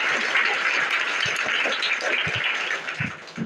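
Students applaud a classmate's correct answer at a Vidya Bharti school in Azamgarh, a steady round of clapping from a group, fairly close and without talk.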